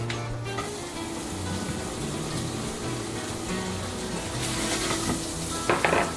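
Onions and garlic sauté in a hot pan for a sauce, giving a continuous, fairly loud sizzle with soft stirring and a few clinks of a utensil against the pan, no voices over it.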